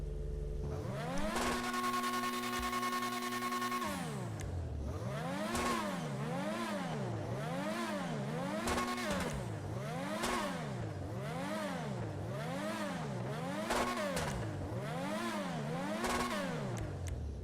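A Progen PR4 open-wheel race car engine in Grand Theft Auto Online revs up and down repeatedly in a steady rhythmic pattern, loud and continuous, with a synthetic, game-like tone and no talking.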